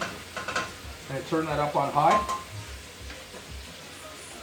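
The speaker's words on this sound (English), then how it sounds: "I'm going to dump my mussels in. You hear that nice sizzle." Mussels dumped into a hot pan with stirring and a soft sizzle, the frying hiss faint and mostly under a man's speech, with a few light clatters of the pan.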